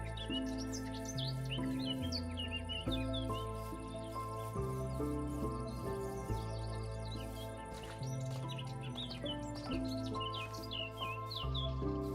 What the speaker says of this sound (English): Birds seem really loud still to me.